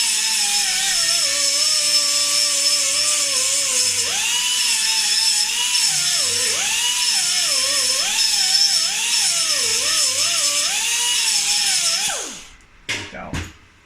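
Flat-pad sanding on a Triumph Tiger 90 part gives a steady, close rasping drone that holds for about twelve seconds with a wavering pitch, then stops abruptly and is followed by a few short knocks.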